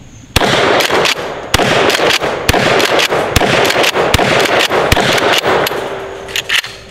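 Sharp, loud gunshots from a short-barrel pump shotgun, a Remington Tac-14 or Mossberg Shockwave, firing mini shells. The shots come one after another, with metallic clanks of the action cycling between them.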